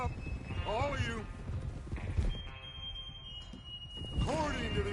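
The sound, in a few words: horses galloping in video game Red Dead Redemption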